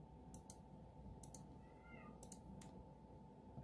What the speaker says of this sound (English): If you hear any meowing, that's what that is.